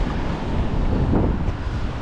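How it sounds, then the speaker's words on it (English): Steady, loud wind by the sea near a river mouth and harbour, buffeting the microphone in a continuous roaring rush with surf-like wash beneath. "It's quite breezy, but the air is lovely and fresh."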